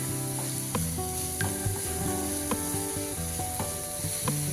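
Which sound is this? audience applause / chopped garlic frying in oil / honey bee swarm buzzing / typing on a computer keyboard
chopped garlic frying in oil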